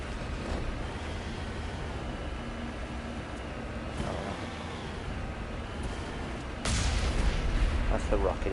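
Rocket boost of the Mako vehicle in Mass Effect Legendary Edition, a rough engine rumble that bursts into a louder roaring thrust near the end, with a person talking over the game sound.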